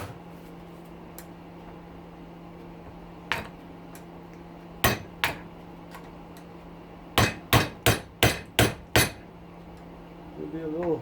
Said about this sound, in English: the nose we'll just chip off with the hammer